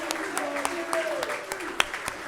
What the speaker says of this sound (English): Massive cheer.